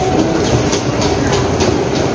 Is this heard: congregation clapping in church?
no